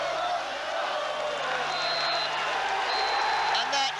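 Football stadium crowd at Millwall versus Nottingham Forest, a steady roar of cheering and applause filling the ground, with a commentator talking over it throughout.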